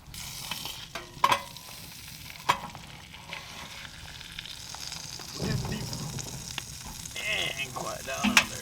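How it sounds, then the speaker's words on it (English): Beanie weenies sizzle in a pan while cooking at a winter hot tent camp in Northern Wisconsin, with scattered clinks and stirring scrapes over a steady frying hiss and a voice talking faintly. "This is how you cook a beanie weenie."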